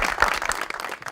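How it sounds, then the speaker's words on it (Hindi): A studio audience at a talk show breaks into dense, sustained applause, many hands clapping together at close range for a short burst. "बहुत सारी तालियां।"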